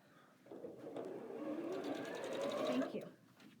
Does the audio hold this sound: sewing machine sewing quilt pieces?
yes